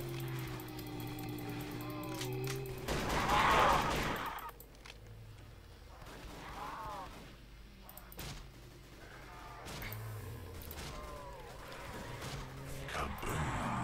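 Game weapon fire in Roblox Project Lazarus: a loud burst of shots about a third of the way in, followed by scattered quieter effects and game sounds, with a voice talking over parts of it.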